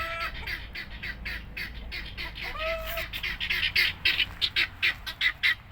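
Tokat chickens squawk in a rapid, repeated series of harsh calls close by, growing louder and more insistent toward the end.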